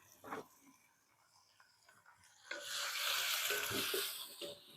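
Tomato and ginger-garlic paste sauté in a pan, starting with faint stirring scrapes before a soft sizzling hiss swells up and holds steady, fairly quiet and close.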